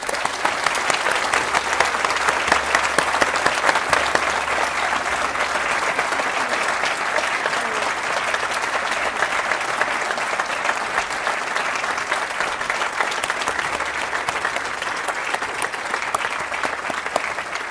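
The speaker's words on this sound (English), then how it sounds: "Could we please have a round of applause for all the members of staff who today is their last day at the Academy?" Audience applause at a senior school exhibition for staff leaving the academy, a large crowd clapping loudly and continuously for nearly eighteen seconds in an even, sustained roar of hands.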